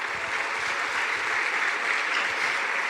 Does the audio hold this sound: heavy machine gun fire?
no